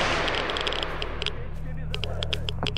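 Sharp rifle shots ring out in a S.T.A.L.K.E.R. Anomaly firefight, several separate single-fire cracks spaced irregularly over a steady low rumble, fairly close and loud.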